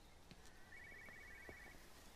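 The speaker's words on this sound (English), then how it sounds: "I hear a phone ringing" A telephone ringing in the video game Everybody's Gone to the Rapture, a faint electronic trill lasting about a second amid quiet ambient background, distant and soft.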